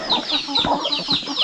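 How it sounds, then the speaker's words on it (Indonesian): Rooster clucking on a village farm, a run of close, repeated short clucks and calls in a steady rhythm with no talk over them. "Ayam ini namanya Jono."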